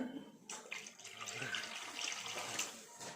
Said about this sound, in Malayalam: ഒരു കപ്പോളം വെള്ളം നമുക്കൊന്ന് ഒഴിച്ചു കൊടുക്കാം.